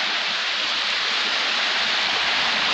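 Water in a stream rushing down over stones, a dense, steady roaring hiss that stays loud and unbroken throughout, with no voices.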